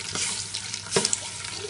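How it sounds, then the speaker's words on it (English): Water from a tap runs and splashes while three cups are poured into tomato gravy for a Lebanese-Indian kabsa biryani, a steady close stream with a few brief spatters. "3 cups of water."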